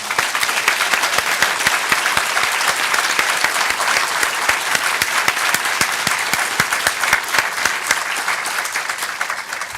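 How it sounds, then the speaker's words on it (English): Sustained, loud applause from a large conference audience, dense clapping continuing evenly throughout. "I would like for us to give a big hand of applause"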